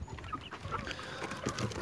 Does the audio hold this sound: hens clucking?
yes